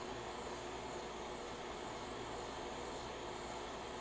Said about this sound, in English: This hot air station is, I don't know where I bought this from, but it's the Atten ST862D, which is really good